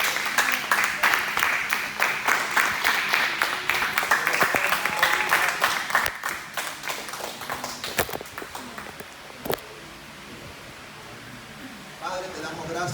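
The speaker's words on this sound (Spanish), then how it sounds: "que le brindo un fuerte aplauso al Señor" Church congregation applauding, a dense broadband clapping wash for about eight seconds under a talking voice, then thinning to a quieter room with scattered taps before a brief swell at the end.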